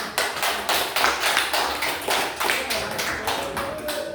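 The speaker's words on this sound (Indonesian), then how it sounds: "Tepuk tangan" Students in a classroom clap together in a quick, steady rhythm of sharp, near hand claps lasting several seconds, with no talk over it.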